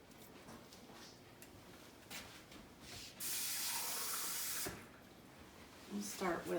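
Water runs from a kitchen tap in a steady hiss for about a second and a half, near and fairly loud, with a person talking before and after.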